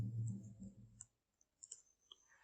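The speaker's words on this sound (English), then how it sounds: "press Ctrl Shift number 3 on your keyboard" Keyboard keys pressed for a Ctrl+Shift+3 date-format shortcut in Microsoft Excel: a few soft, sharp clicks scattered across a quiet stretch after a low hum fades out.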